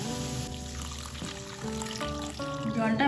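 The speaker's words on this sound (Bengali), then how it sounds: "এবার আমি এর মধ্যে দিয়ে দেব 1 কাপ মতো জল।" About a cup of water pours steadily into a pan of melted sugar for papaya chutney, a continuous close stream whose pitch shifts as it fills.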